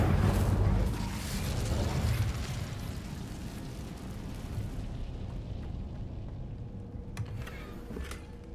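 An Incendio fire spell cast in a Harry Potter video game: a loud, roaring burst that erupts at once, then fades into a sustained crackling rumble with a few faint clicks near the end.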